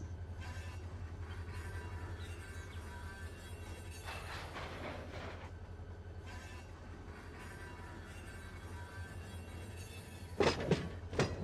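A locomotive-hauled local freight train rolls in the Run 8 train simulator game, with a steady low diesel hum, faint wheel and car noises, and a few louder clanks and thuds near the end.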